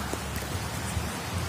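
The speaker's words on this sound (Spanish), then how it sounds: "Se viene la lluvia con arcoíris y todo, señores." Rain falls steadily in the Chiquitania region of Bolivia, a constant close hiss with faint patter and no voices.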